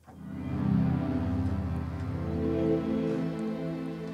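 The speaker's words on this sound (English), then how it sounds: "some sort of pad. And that sounds like this." A soft, sustained synthesizer pad swells in and holds a warm chord, quiet and smooth with no talking.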